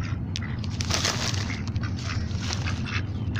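Ducks quack in a busy, overlapping chorus close by while being fed peanuts at a fishing retreat pond, with sharp calls repeating throughout and no talking.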